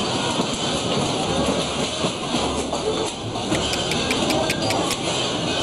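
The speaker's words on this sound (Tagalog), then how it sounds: "Ganyan kalakas itong lindol." An earthquake in Morocco shakes everything, producing a loud, continuous rumbling roar with rattling noise that persists without a break.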